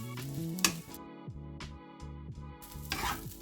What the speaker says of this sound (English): we're going to give this a bit of a stir fry until they're crispy